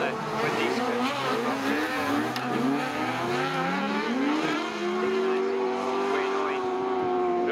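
Autograss race cars roar together at Scunthorpe, engines loud and continuous as they rev and climb through the gears from the start, with a commentator talking over them.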